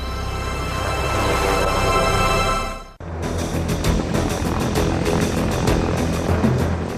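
A rescue helicopter of the Korean War era flies with a loud, continuous engine and rotor drone, briefly cut off near the middle before resuming just as strong.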